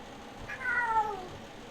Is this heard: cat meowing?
yes